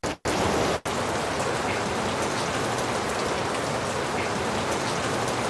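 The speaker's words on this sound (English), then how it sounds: "You have some rain sound." A rain sound effect from an iRig music app sound bank plays as a dense, steady hiss of falling rain that cuts out twice near the start and then runs evenly to the end, with no talking.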